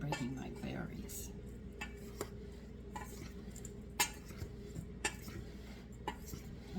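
Mixing spoon tapped against a bowl to knock stuck butter loose in blackberry scone dough, a few sharp light knocks spaced out over quiet stirring, with a voice talking over them.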